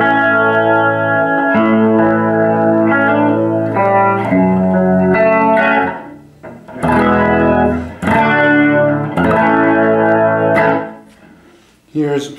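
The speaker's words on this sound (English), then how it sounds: "This is the Leslie in its slow position." An electric guitar played through a Leslie 145/147-type rotary speaker on its slow setting, driven by a Dr Fishsticks controller and preamp, rings out sustained chords with a slow, swirling chorus-like warble, loud and close, with brief pauses between phrases.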